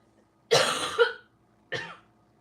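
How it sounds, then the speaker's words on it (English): A sick woman coughs in the background, a short cough burst followed by a second cough about a second later, clear against a quiet room. "My wife is sick, so she's just coughing in the background."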